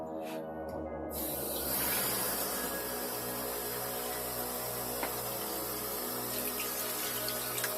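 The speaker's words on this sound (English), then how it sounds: "So now I'm going to go ahead and add 3 cups of water." Water runs from a tap into a pot for peach pudding, a continuous close splashing hiss that starts abruptly and keeps flowing steadily to the end, without any talk.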